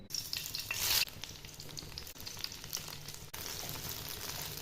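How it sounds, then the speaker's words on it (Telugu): Cut brinjal pieces frying in oil with turmeric and salt, a steady close sizzle with a brief louder crackling flare near the start and stirring shifts, no talking. "నేను 5-6 వంకాయలను కడిగి శుభ్రంగా కట్ చేసుకొని నూనెలో వేయించుకుంటున్నాను."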